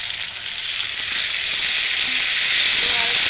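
Spice water poured into hot oil with pangas fish hisses and sizzles loudly and close, a dense, steady frying sound holding for a few seconds with no talk.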